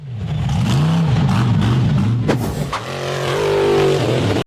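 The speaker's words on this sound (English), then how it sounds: "Two buggies charged one after the other, accelerating hard to conquer the steep dirt hill." Off-road buggy engines accelerating hard up a steep dirt hill, a loud, close, wavering engine roar that revs and surges before cutting off abruptly.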